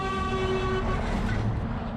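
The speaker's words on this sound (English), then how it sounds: "Trucks here had deafening air horns" A truck's deafening air horn blares on a busy Turkish motorway, a loud sustained tonal blast over heavy road rumble, close by.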